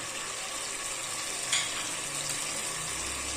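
Tomatoes fry in a pan for bhindi gosht masala, giving a steady broadband sizzle with a brief stir or scrape partway through and no talking.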